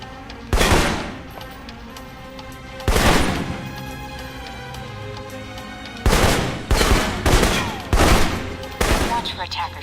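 Assault rifle gunfire in the video game Alpha Protocol: several loud, sharp bursts of automatic shots, two isolated bursts early, then a quick run of closely spaced volleys.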